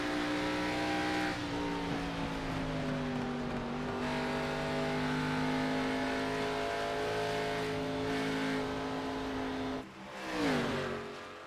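A race car accelerating out of turn 4 down the straightaway at Darlington, heard from a pit stall as a sustained, steady engine drone that holds and then shifts pitch sharply near the end as it passes.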